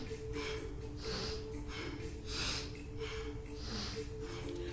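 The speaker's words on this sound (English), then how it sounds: "So it's going to be a sniffing style breath." Fast, rhythmic sniffing-style breaths through the nose during a core workout, a quick series of close, airy puffs with slight surges of louder exhales, no talking.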